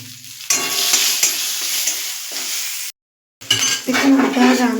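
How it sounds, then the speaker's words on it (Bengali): Bay leaf and two dried red chillies frying in hot oil for a matar dal with bottle gourd and bitter gourd give a steady, loud sizzle that cuts out briefly, then returns with stirring and light clinks of a utensil against the pan. "দিয়ে দেবো তেজপাতা, দুটো শুকনো লঙ্কা ফাটিয়ে দিয়ে দেবো। এটাকে আমি ভালো করে ভেজে নেব।"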